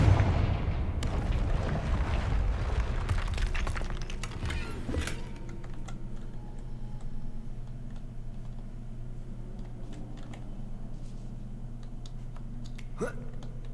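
Confringo blasting spell in the video game Hogwarts Legacy, a loud fiery burst and crackle at the start that dies away over several seconds into low ambient rumble with a few faint clicks.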